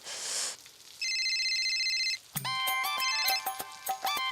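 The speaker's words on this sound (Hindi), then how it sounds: "हंसिनी को फोन लगाया और कौवे ने उठाया" A telephone rings with bright electronic tones, first one sustained burst, then a busier run of repeated beeping melodic pulses, loud and close with no one speaking over it.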